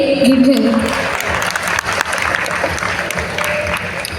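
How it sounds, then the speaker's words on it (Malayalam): A crowd at a Kerala food court event applauds. Dense, fairly loud clapping continues throughout under a voice that rises at the start. "കയ്യടി"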